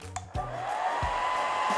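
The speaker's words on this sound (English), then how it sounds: "now we're going to try it with some more wind with the hairdryer" A hairdryer blows steady wind onto a toy wind racer, a continuous whooshing hum that starts after a couple of brief clicks and holds steady and close.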